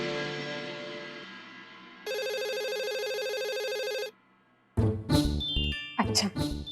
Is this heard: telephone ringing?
yes